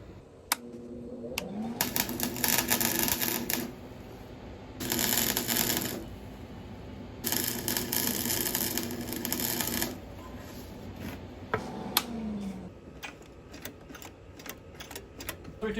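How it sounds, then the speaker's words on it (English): Short tack welds on a bracket fitted to a Husqvarna hydro mower in a shop: three crackling, buzzing bursts of a few seconds each, separated by brief pauses, close and fairly loud. "So all we have to do now is put a little tack weld there, maybe one in the center"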